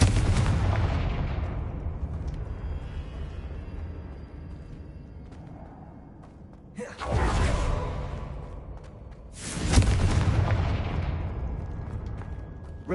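Confringo explosive spell in the video game Hogwarts Legacy, a series of heavy booming blasts with long rumbling decays, one sustained explosion followed by two more sharp bursts, loud and close.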